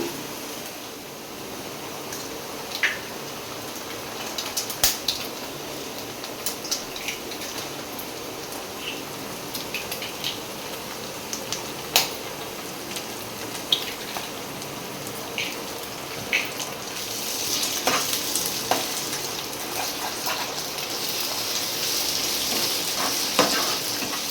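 Eggs frying with cabbage in a pan, a steady crackling sizzle throughout with occasional clicks of a spatula stirring, growing louder and denser toward the end.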